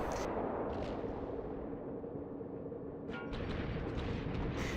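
Naval guns on a Kuma-class Japanese cruiser in World of Warships fire shells in quick succession, with booming reports and rumbling blasts rolling over a steady low roar and no voices.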